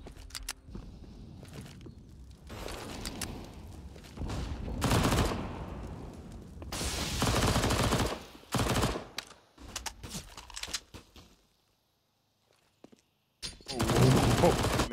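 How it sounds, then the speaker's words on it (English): SMG and rifle fire in a Counter-Strike match on the Inferno map comes in loud rapid bursts with pauses, footsteps and a stretch of near silence, while an esports caster talks throughout. "Doesn't want to get churned up by these SMGs or rifles as fnatic move back in."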